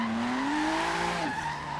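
Tires squeal in a long, high, sliding whine as a car drifts through traffic, loud and close over a steady engine drone, the pitch rising slightly before dropping off abruptly.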